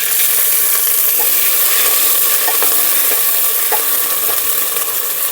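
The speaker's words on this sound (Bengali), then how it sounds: "একটু ভাজা ভাজা করে দিয়ে দিচ্ছি" Spices, dried red chillies, fenugreek, whole coriander, curry leaves and ginger paste frying in a pan for kadhi pakora, a loud continuous sizzle with faint stirring clicks throughout.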